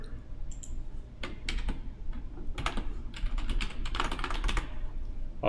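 Password keys tapped on a computer keyboard while installing Zorin OS 15 Linux, a close, steady run of irregular clicks for several seconds with no talk.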